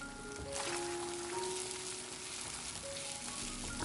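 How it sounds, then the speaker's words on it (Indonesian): Sliced meatballs and eggs frying in a pan while being stirred give a steady, soft sizzle with light scraping, close and unbroken, with no voices. "Aduk pelan-pelan sampai jadi telur orak-arik."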